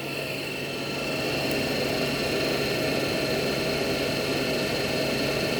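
A DC shunt motor runs at about 1400 rpm, giving a steady broadband whir with faint tonal whine, swelling slightly in the first second and then holding constant and loud.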